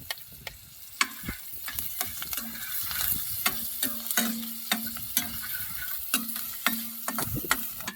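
Onion and ginger paste fry in a pan at a jungle campsite, with a steady sizzle under repeated sharp clinks and scrapes of a spatula against the metal, close and fairly busy.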